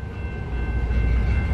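A CN eastbound manifest freight train with a distributed power unit locomotive rumbles steadily past at Battle Creek, Michigan. A deep, constant low roar carries a faint high whine on top, with no talking.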